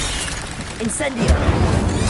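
An Incendio fire spell is cast in Hogwarts Legacy, bursting out as one sudden crackling whoosh with a low thump amid busy, loud combat effects.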